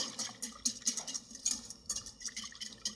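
Wire whisk beating eggs with sugar for zabaglione in a bowl set over hot water, rapid rhythmic clicking and scraping of metal on the bowl, close and steady, with no one talking.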